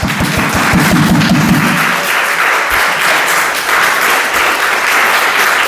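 Church congregation breaking into loud, sustained applause, dense clapping filling the room for several seconds after a sermon line, a few heavier thumps early on.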